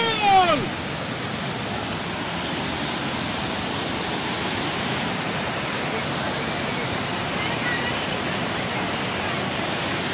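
Strong, fast-flowing water rushes steadily at Khopoli near Tata Power, a loud broadband roar holding evenly from start to finish, with a brief voice and whistle-like chirp at the very beginning.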